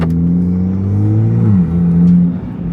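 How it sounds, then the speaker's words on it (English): A Toyota A90 Supra with an open exhaust revs hard and loud up close, its engine tone climbing and then dropping as the pull ends, with a faint turbo whir under the roar. "I'll give you guys a little open exhaust pull right now."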